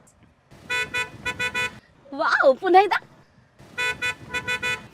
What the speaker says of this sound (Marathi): जरा एक सेकंद हॉर्न वाजवाल प्लीज